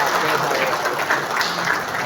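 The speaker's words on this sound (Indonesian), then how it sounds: "Tepuk tangan untuk beliau." Applause from an audience at an installation ceremony for a Madurese youth organisation's board, steady, dense clapping filling the room for about two seconds, loud and continuous with no break.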